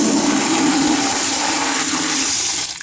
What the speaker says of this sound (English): Then remove the drain off key and use that to flush through the unit.